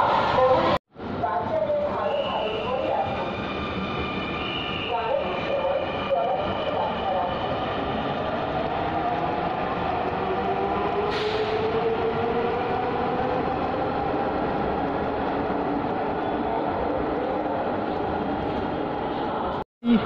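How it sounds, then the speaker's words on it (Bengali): A Dhaka metro rail train approaching the station, a long steady rumble with rising and falling whine that swells and holds, heard under footsteps and ambient station noise with a person talking. "তো আমি এখন ট্রেন আসছে মনে হয়, আওয়াজ শুনেই বুঝতে পারলাম"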